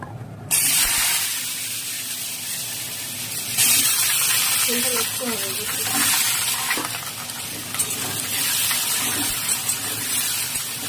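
Potato pieces hit hot oil already tempered with whole cumin seeds, oil left over from frying lentil fritters, giving a steady, close, broad sizzle and spatter that runs throughout with little change in loudness.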